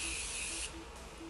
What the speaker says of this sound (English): I am just gonna finish up using the Morphe setting mist